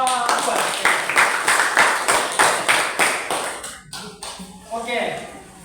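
Junior high classroom students clap in unison for a group, about ten sharp, evenly spaced rhythmic claps, followed by a voice speaking.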